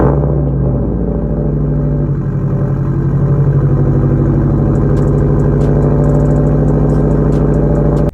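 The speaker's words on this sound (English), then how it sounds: "So maybe cold start for the boys." A Subaru Legacy GT engine after a cold start runs at a steady, loud idle, its low rumble holding even throughout with no voices.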